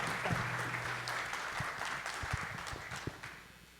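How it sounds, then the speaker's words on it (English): Audience applause at a space industry summit in Puerto Rico, a dense, steady wash of clapping from a sizable crowd that holds, then begins to thin toward the end. "Big applause."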